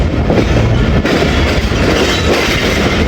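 Rehman Baba Express, the 48 Down passenger train, pulling into Rawalpindi railway station, a loud steady rumble of rolling carriages with rhythmic wheel clatter throughout, heard close from on board.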